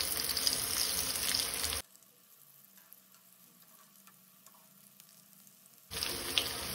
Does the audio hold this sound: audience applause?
no